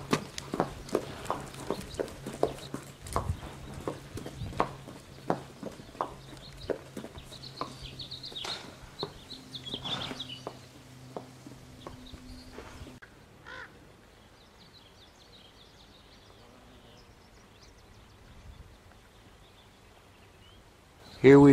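Hooves clip-clop at a steady walking pace on a hard surface for several seconds, then fade out, leaving quiet background before a sudden loud bump at the end.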